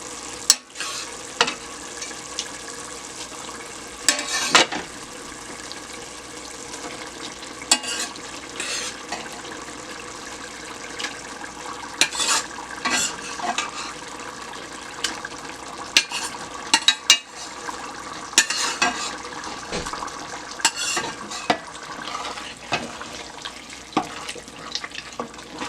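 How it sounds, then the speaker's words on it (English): Garden eggs fry in a pot, with a continuous sizzle and occasional scraping and clattering as they are stirred, with no voices. "And now we're going to let it continue to fry."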